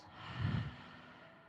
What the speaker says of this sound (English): And one more deep breath out.